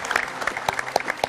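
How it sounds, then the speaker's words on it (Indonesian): Audience applause breaks out as guests are introduced on a Jakarta political talk show, a dense run of hand claps with sharp individual slaps standing out over the crowd. "Tepuk tangan yang meriah untuk narasumber saya pada malam hari ini."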